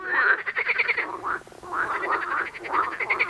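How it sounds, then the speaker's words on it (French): Frogs croak in a continuous chorus, rapid pulsing rattles and chirps overlapping in bursts, moderately loud, with no voices. "ou quand les grenouilles couassèrent."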